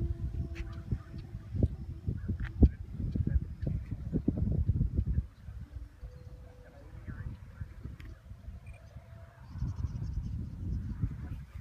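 A flock of geese-like birds honks outdoors at a model-airplane flying field, repeated faint calls in bursts with a short lull in the middle.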